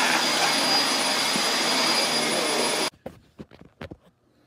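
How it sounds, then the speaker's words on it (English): A Dyson DC24 upright vacuum cleaner runs with a loud, steady whooshing roar, then cuts off abruptly, leaving a few scattered knocks and short sounds in the quiet that follows. "So here's a follow-up video with the Dyson DC24 6 years later."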